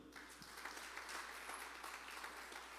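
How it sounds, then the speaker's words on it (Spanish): A church congregation applauds during a Spanish-language sermon, a faint, steady patter of clapping from a roomful of worshippers, continuous and fairly distant, with no speech over it. "Dele un aplauso al Señor."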